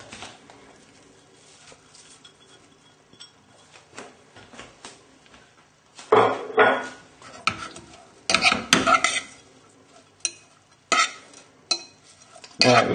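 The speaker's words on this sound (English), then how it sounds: "just tip that in and give it a good stir in" A fork stirs chopped coriander through couscous, giving soft scrapes and clinks against the bowl that come in irregular bursts after a quiet start, with faint rustling in between.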